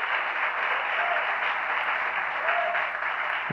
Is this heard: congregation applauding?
yes